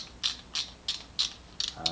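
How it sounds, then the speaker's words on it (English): Socket ratchet clicking close by in about six short, evenly spaced bursts of quick metallic clicks, with nothing else heard. "Obviously a ratchet"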